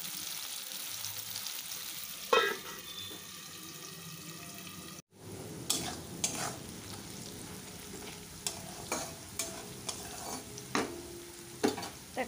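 Chopped onion frying in a pan gives a low, steady sizzle, with repeated clinks and scrapes of stirring and a brief clatter partway through, quiet and close.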